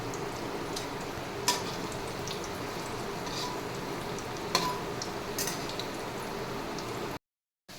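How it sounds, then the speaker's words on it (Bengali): Soybean koftas fry in hot oil, giving a steady, close crackling sizzle with a couple of sharp utensil clinks before the sound cuts to silence. "সুন্দর করে উল্টে লাল লাল করে ভেজে নেব।"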